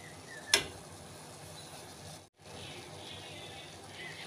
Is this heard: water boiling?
yes